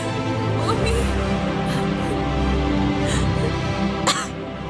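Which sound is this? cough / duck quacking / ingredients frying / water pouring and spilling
cough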